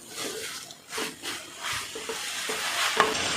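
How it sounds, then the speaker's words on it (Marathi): Mixed vegetables for cutlets sauté in a pan, making a soft, close sizzle with intermittent stirring scrapes in rhythmic pulses, fairly quiet and without speech. "परत आता हे मी 2 मिनिटं असं परतून घेतलेलं आहे."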